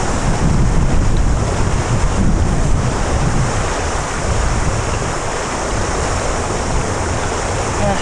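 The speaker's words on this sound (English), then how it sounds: "The wind is killer." Strong wind roars and buffets the microphone at a fishing spot on New Zealand's South Island, a loud continuous rush with no other sounds breaking through.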